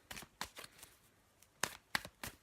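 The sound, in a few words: shuffling a deck of tarot cards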